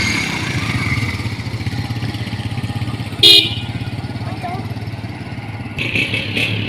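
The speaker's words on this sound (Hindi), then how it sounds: "ये देखें जी, वो हनीफ भाई भी मोटरसाइकिल निकाल रहे हैं।" A motorcycle idles and runs close by with a steady engine rumble, wheeled out at a riverside barrage outing, while a brief horn toot and later clatter cut through and people talk over it.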